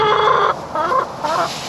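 Several chickens cluck and squawk close by in loud, overlapping bursts, with a short pause between calls, in a chicken pen.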